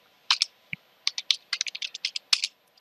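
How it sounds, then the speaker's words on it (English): Close keystrokes on a computer keyboard as a password is entered during an Ubuntu server setup: bursts of quick, crisp clicks in uneven groups separated by short pauses, with no speech. "Now type the password for that user."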